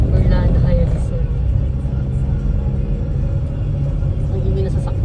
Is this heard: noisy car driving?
yes